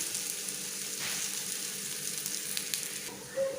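Slices of ripe plantain fry in a pan with a steady, close crackling sizzle, broken by a few soft scraping stirs near the end.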